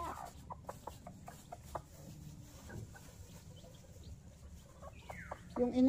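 Chickens cluck in short, scattered bursts against a low background rumble, with a louder squawk near the end.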